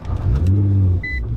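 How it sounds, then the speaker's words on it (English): A 2014 Nissan GT-R engine cranks and fires up, a close, loud low rumble that swells and settles into a steady idle after about a second. "Let's go ahead and start the car up though."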